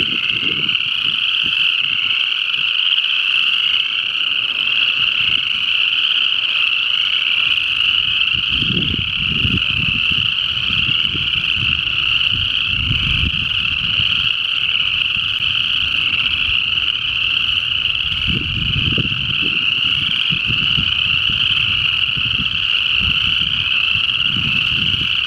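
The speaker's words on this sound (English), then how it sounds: "There's one of those spring peepers." A chorus of spring peeper frogs in Iroquois Park on a February morning, a continuous high shrill peeping blanket from many callers at a distance, with low handling rumbles beneath.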